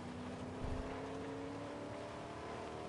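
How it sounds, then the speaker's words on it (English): A steady car engine drone in Fortnite, a constant mid-level hum held for a few seconds with no talking over it. "Cars are loud."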